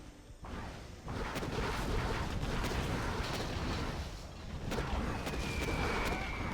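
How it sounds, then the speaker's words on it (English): A carpet bombing strike in the strategy game Command & Conquer Generals Zero Hour lands as a dense rumble of repeated explosions, a sustained roar with scattered sharp blasts and a whooshing sweep late on. "Nice carpet hit."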